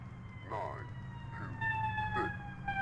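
An ambulance siren in the indie horror game The Survey wails with steady tonal lines that rise in pitch and grow louder partway through, faint beneath a low hum, while a voice briefly speaks over it.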